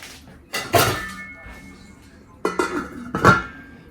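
A lid settles onto a cooking pot of Ilokano-style nilagang baboy with bok choy, giving a few close, sharp metallic clanks and rattles in two separate bursts with quiet gaps between.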